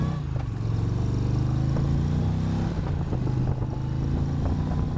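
An Indian Challenger motorcycle's engine runs and revs steadily close by, a thick low throb with harmonic bands that rise and fall slightly, loud and continuous for the whole stretch with no talking.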